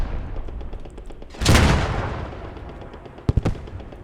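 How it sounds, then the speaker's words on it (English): German 88 anti-tank cannon firing in a tank battle video game, one loud booming blast followed by a long rumbling decay, then a quick pair of sharp distant reports near the end. "That's a lone cannon by Uncle Ira."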